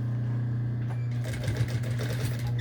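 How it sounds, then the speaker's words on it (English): A sewing machine runs a short back-stitch through fabric for a handmade necklace, its motor humming steadily up close as the needle chatters quickly in the second half. "I'm going to do one more back stitch just to make sure"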